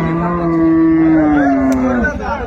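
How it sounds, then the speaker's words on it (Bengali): A dairy cow with her calf at a cattle market in Narayanganj lets out one long, loud, close moo that holds steady before falling off at the end, over a faint murmur of the crowd. "এটা হচ্ছে গাভী বাছুর, এখানে কালেকশন করছে বেলাল ভাই।"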